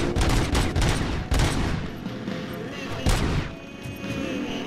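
Gunfire in Robocop: Rogue City, loud close shots fired in quick, uneven bursts with sharp cracks and ringing tails, then easing into scattered reports and lingering clatter.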